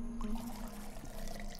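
Liquor pours into a glass in a Wild West saloon simulator game, a short soft trickle of liquid over a steady low hum.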